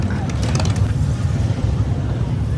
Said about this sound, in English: you can see the custom bikes are rolling in, so they are going to distort my sound